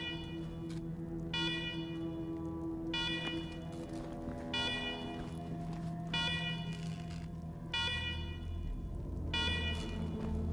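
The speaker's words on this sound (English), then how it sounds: "Let's talk after you kill the alarms." Alarms blare in the video game Wasteland 3, a loud repeating electronic siren pulsing in regular bursts about every one and a half seconds over a steady droning tone.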